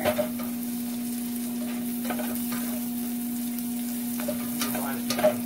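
Mahi mahi sears in a hot pan with sundried tomato and basil, giving a steady close sizzle and frying crackle, with a few light stirring clicks and a low, constant hum underneath.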